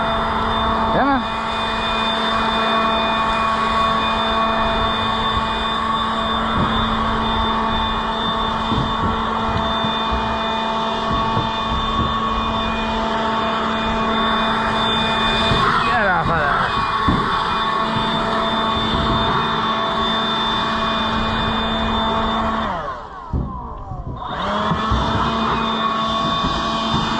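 Leaf blower running steadily in a chicken yard, a loud continuous drone with a strong tonal whine, dipping briefly near the end as it is moved, with faint talk underneath.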